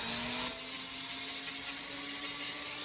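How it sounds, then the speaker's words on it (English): A small power grinder smoothing the cut edges of a diamond bangle, a steady high-pitched whine with light shifts as the metal is worked, close and alone. "And grind the edges."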